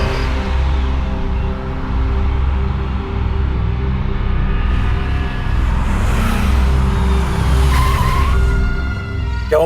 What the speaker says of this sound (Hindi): क्या हुआ भाई साहब, गाड़ी क्यों रोक दी?